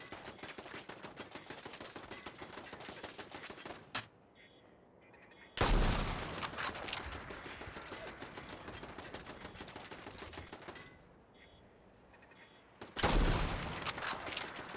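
An automated turret in Fallout 4 fires in long, rapid, loud bursts of gunfire, three separate volleys broken by short quiet pauses.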